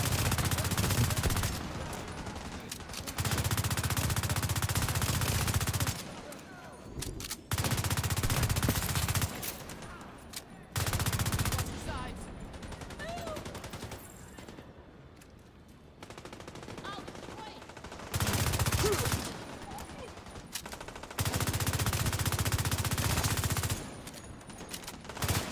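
Bursts of sustained automatic gunfire in The Division, several long loud volleys separated by short lulls, with quieter stretches where a voice talks underneath.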